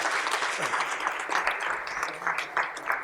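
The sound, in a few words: round of applause for the staff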